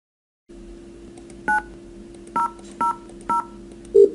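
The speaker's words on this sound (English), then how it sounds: "Now let's dial extension 9000." A PBX phone dials extension 9000: four short DTMF keypad tones ring out in an uneven sequence over a steady hum, followed by a louder tone at the end.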